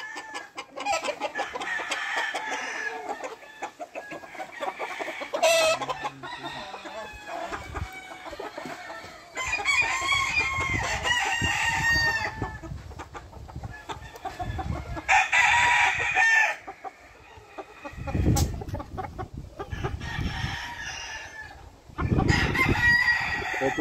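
A black rosón gallino gamecock rooster crows loudly and close by, giving several long drawn-out crows separated by short pauses, with clucking and other farmyard sounds in between.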